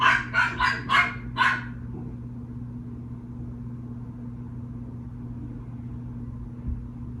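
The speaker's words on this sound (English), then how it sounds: "Excuse the puppy." A puppy lets out about five quick, fairly loud barks in a row, then falls quiet over a low steady hum for the rest of the clip.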